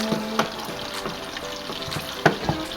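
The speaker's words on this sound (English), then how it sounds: "I'm just going to let that simmer." Garlic and thyme simmering in a pan on low to medium heat, a gentle continuous sizzle with a few soft stirring taps, close and steady, no talking.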